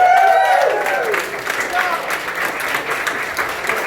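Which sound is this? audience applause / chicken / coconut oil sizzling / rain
audience applause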